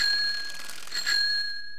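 Bicycle bell in the video game Disaster Report, rung as a few bright metallic dings with a sustained ringing tone that fades out, heard alone without talk.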